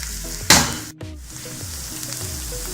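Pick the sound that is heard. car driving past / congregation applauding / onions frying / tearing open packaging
onions frying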